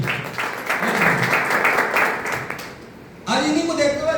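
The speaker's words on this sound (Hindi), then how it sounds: "जोरदार ताली चाहिए।" Audience applause at a health awareness program in Sagar, a loud broad patter of many hands that dips briefly and then surges back.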